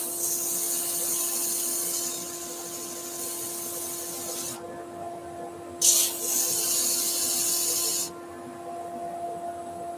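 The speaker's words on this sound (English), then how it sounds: "go then straight to my power sanding pads and use those in the chuck just to clean up what we've done" Power sanding pads spun in a drill chuck smooth down a wooden Christmas centrepiece piece, giving a steady abrasive hiss with a constant motor hum that drops away briefly, returns in a short burst, then resumes before stopping.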